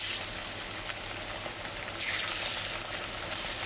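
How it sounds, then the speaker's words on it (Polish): Chickpea panelle slices frying in about a centimetre of very hot rapeseed oil, a loud dense close sizzle that swells sharply midway as more slices hit the oil, with no speech. "Tutaj mam bardzo gorący tłuszcz, jakiś centymetr oleju rzepakowego i wrzucam podobno na parę sekund dosłownie."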